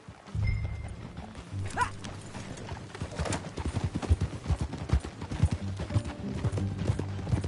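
Video game horse hooves clip-clop in a quickening rhythm, close and clear, alongside an occasional snort and background game music.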